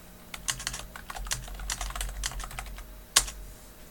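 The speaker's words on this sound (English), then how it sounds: "as you keep typing" Fingers type steadily on a computer keyboard, a quick run of close clicky keystrokes ending with one sharper, harder key press, in a quiet room.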